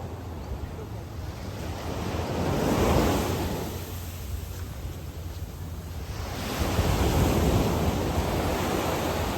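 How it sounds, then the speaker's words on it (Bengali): Ocean waves on Long Beach, Phi Phi Island, Thailand roll in as a steady broadband wash, with two swelling surges breaking nearby, and some wind buffeting the microphone. "ভালো ঢেউ আছে তো"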